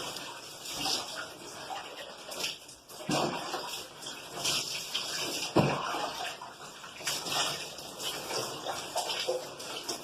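Water is poured over the body for Islamic spiritual bathing, a close, continuous splashing and gushing that swells and eases in waves over about ten seconds.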